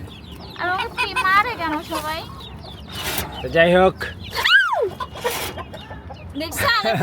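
Several chickens cluck and squawk close by in a busy yard, with a person speaking briefly among the calls.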